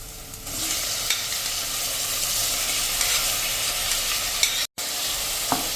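Chopped tomatoes stirred into pav bhaji frying in a pressure cooker: a steady close sizzle with scraping spoon strokes against the metal, briefly cutting out for a moment near the end, with no talking.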